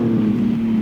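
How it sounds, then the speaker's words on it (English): A Lamborghini Diablo V12 from the 1990s, resto-modded, passes a commentary box with a steady, sustained engine drone and some wind rush, loud and close throughout. "That V12 engine absolutely singing."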